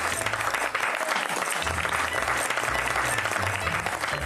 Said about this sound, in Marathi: टाळ्या वाजवा, सगळ्यांनी टाळ्या वाजवा